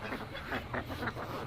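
Ducks eating rice give a run of close, nasal quacks in quick succession over low background noise.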